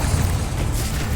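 A Bombarda spell blast in the video game Hogwarts Legacy, a dense, sustained booming rumble that stays loud and steady through its short length with no spoken voice.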